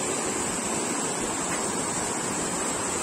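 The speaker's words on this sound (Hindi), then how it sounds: "ये सामने इस तरफ जो नाला है, पानी, बारिश का टाइम है, बारिश हो रही है" Steady, dense rush of a rain-swollen mountain stream near a waterfall outside Manali, continuous broadband roar with no breaks, fairly close and unbroken by voices.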